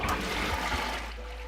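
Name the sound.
liquid shampoo mixture being poured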